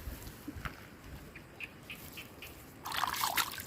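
Water flowing in a small stream, a faint gentle trickle with scattered drips and a brief louder splashing gush near the end.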